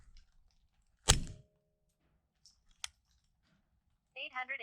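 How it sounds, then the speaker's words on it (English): A Ruger SR22 .22lr pistol fires Aguila standard velocity 40 grain pistol match ammunition in two sharp shots, the first loud and close with a ringing tail, the second shorter, followed by a brief bit of talk. "I'll be shooting the 22 Aguila pistol match"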